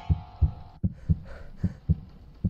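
A quick, thudding heartbeat pulses in horror video game A Devilish Nightmare, about eleven close, low double-beats in under three seconds over a faint hum.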